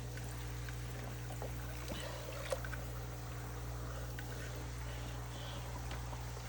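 Two air pumps bubble steadily in a container of homemade worm casting tea, a continuous low hum and soft watery churn at even level, with one brief click partway through.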